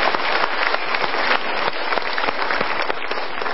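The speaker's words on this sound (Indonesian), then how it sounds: "kita berikan tepuk tangan untuk Anda" Dense, steady applause from a studio audience at the Indonesian motivational talk show Mario Teguh Golden Ways, sustained and loud for several seconds without pause.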